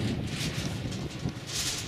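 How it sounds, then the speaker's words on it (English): Wind gusts buffet the microphone outdoors beside a lake, a rough low rumbling roar that swells and eases with a hissy rustle on top. "And look, it's windy"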